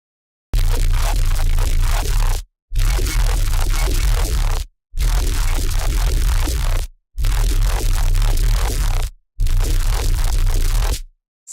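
A staticky electric synth sound built with the Fusion instrument plays as five loud, heavy-bassed sustained bursts, each about two seconds long and separated by short silences, with a crackling, tearing texture throughout.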